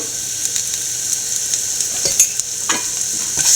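Sliced shallots and onions sauté in hot oil, a steady bright sizzle with occasional scraping stirs of a spatula in the pan, close and continuous with no talking.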